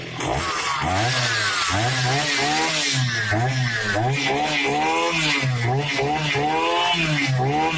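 A petrol brush cutter engine runs loud and close for the whole stretch, its buzzing two-stroke note rising and falling in repeated revs, with possible brief talk under it.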